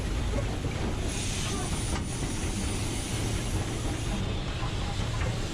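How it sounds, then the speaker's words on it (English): Steam locomotive 44871 on the Swanage Railway drifting toward a platform with the regulator shut, heard from the footplate as a continuous loud rumble and hiss of rolling wheels and steam, with no voices. "Steve shuts the regulator and starts to bring the speed of the train down"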